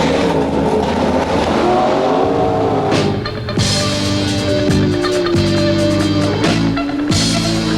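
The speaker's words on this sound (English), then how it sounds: "This is probably the type of stock cars that have the most acceleration" Stock cars roar around a dirt half-mile race track, engines revving hard and rising in pitch as they accelerate, loud and close with overlapping cars and no talk.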